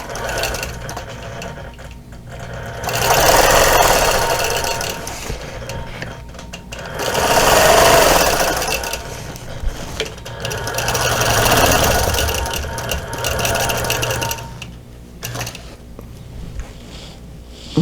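Sewing machine stitching rows of quilting on a patriotic quilt, running in several rapid humming bursts with quieter pauses between, close and loud.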